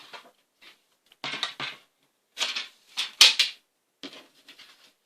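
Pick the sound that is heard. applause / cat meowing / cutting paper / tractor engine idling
cutting paper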